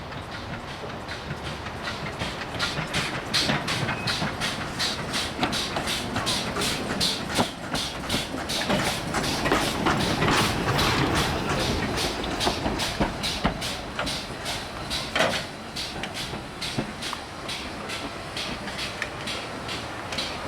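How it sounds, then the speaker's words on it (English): GWR Pannier Tank No.1369 runs out of a shed yard and through a heritage station on the South Devon Railway, a continuous nearby rumble broken by rhythmic clanks and clicks of wheels over rail joints. "Pannier Tank No.1369 runs out of the shed yard and through the station to collect a pair of six-wheeled milk tanks"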